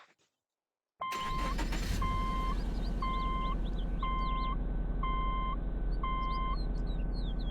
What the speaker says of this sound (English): let's do the startup